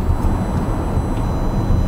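Steady low rumble of tyres on tarmac heard from inside a moving Audi Q7, a dull, even drone with no talking.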